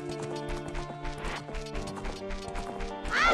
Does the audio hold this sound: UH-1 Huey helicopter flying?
no